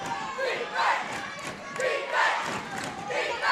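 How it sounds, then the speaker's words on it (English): Spectators at a high school boys basketball game chant and shout for defense in rising and falling waves, loud and roomy, with a few thumps underneath. "Crowd wanting some defense here."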